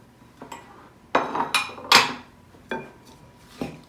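Diced raw cooking apple with the skin on tumbles into a pudding bowl, giving several sharp, close clinks and knocks, a loose cluster of impacts with short pauses between them.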